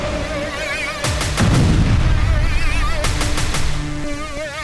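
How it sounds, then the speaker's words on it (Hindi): Russian mortar and artillery fire in Zaporizhzhia comes as two clusters of sharp, rapid blasts about two seconds apart. They are loud and echoing over a steady tonal background. "मोर्टार और तोपखाने से बारूद बरसाते हुए"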